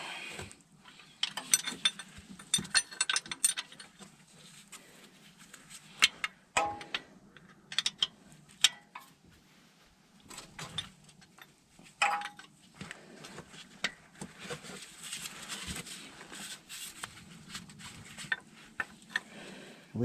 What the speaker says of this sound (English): let's go ahead and get this bolt out, the holding bracket, and that's a 14 mil.